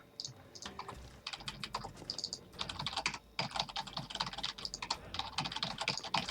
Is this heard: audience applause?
no